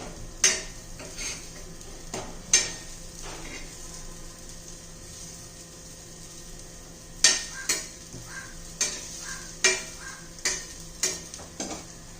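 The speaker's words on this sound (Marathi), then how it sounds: "आणि पुन्हा आता दुसऱ्या बाजूने दोन मिनिट भाजून घेऊ" Green pea hara bhara kebabs frying in a pan on their second side, with a low steady sizzle under intermittent clinks and scrapes of a utensil against the pan, close and without talk.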